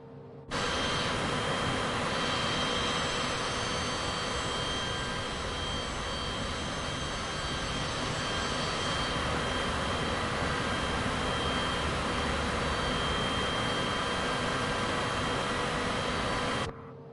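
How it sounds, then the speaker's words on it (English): Jet airliner taxiing at an airport in Microsoft Flight Simulator 2024: a steady, loud broadband engine roar with a constant whine, holding evenly for the whole stretch before cutting off abruptly. "The taxiing is literally going to be longer than the flight itself, quite literally."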